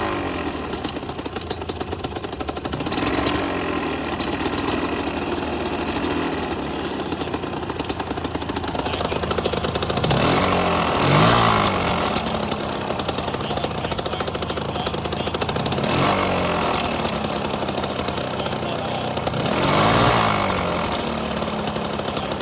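A KTM 300 EXC two-stroke dirt bike engine idles steadily and loudly up close, a continuous rattling burble with a few brief rises in revs, no talking over it.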